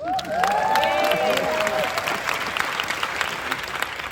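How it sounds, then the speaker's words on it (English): An audience applauds with dense, sustained clapping, a few cheers and whistles rising over it at the start before the clapping gradually thins. "Give a round of applause for podcasting."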